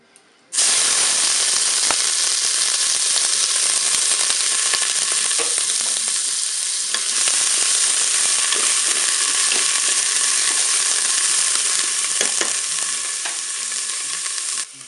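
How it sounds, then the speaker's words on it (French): Onions sizzling in the bowl of a Cookeo multicooker, a loud, dense, continuous frying hiss with occasional crackles and a faint stirring scrape, no talking. "Je vais faire revenir mes oignons."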